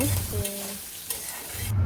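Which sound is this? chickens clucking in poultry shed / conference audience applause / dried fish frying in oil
dried fish frying in oil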